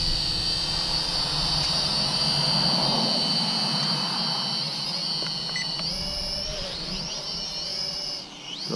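A JJRC H68 quadcopter drone flies close by with a steady high-pitched motor whine and rotor buzz that holds level, then shifts pitch near the end as it manoeuvres.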